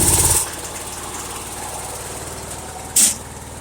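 A riding lawn mower engine in snow cranks with its starter, a close, low rhythmic churning held steady for a few seconds, with a sharp clank near the end.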